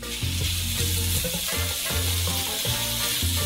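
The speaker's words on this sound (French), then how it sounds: "Et fritez bien la viande pour pas avoir un gros bloc." Ground beef frying in a pan, a steady loud sizzle with intermittent scraping and stirring sounds as the meat is broken up, no talking.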